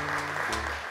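A studio audience claps briefly to welcome a child guest named Alparslan to the microphone on a Turkish children's show, with a short, close burst of applause over a low hum.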